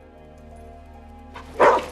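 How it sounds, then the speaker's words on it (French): A single short dog bark sounds near the end, fairly close, after a quiet stretch over a low background hum. "Je peux pas dire grand-chose, c'est le chien de Mikey"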